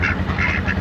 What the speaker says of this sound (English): Made a pit stop by the ducks.